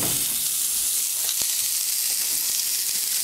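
A peppercorn steak sears in clarified butter in a very hot pan, giving a loud, continuous hissing sizzle with a few faint clicks and taps along the way.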